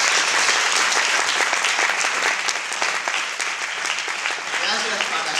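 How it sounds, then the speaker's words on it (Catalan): A crowd at a school event breaks into sustained applause, loud and dense clapping that carries on evenly for several seconds, with voices faintly mixed in beneath it. "un fort aplaudiment per ells"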